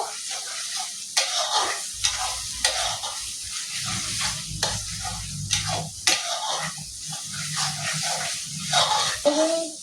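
Spice paste is stir-fried in oil for a Bengali home-style mutton curry. It sizzles steadily, and the spatula scrapes the pan in repeated strokes, with occasional low murmurs in the background.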